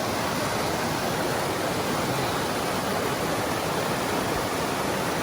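Rushing water at a stream crossing on the Liberty Springs trail, a dense, steady hiss of flowing water, close and loud, constant throughout with no voices.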